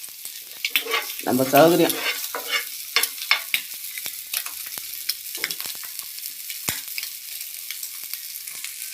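Eggs for three sizzle and crackle in a hot frying pan with a steady, close spattering and scattered sharp pops, and a voice speaks briefly near the start.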